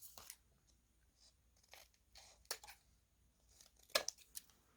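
Scissors snipping through paper while making a collage journal tag, a series of short crisp cuts spread irregularly, the last one loudest, with faint rustling between and no talking.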